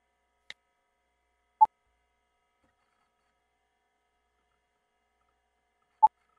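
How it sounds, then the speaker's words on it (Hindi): An electronic device emits short isolated beeps, two clear mid-pitched tones spaced several seconds apart plus a fainter higher blip, quiet and alone in an otherwise silent room. "वो बीप कर रहा है।"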